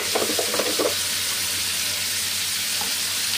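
Squid stir-frying in a pan with salt, soy sauce and pepper, a steady hiss and sizzle with a few brief scraping stirs early on.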